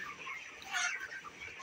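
Broiler chickens about 25 days old, kept on a farm and suffering a disease outbreak, make faint, soft clucking and chirping in a short, quiet stretch.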